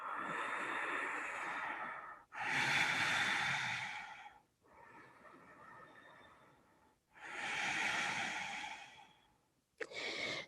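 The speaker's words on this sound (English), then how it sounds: "Breathing, maybe ujjayi breathing." Slow ujjayi breathing during a yoga forward fold, with four long, audible breaths alternating in and out, each a soft ocean-like hiss through the throat, heard up close with no talking.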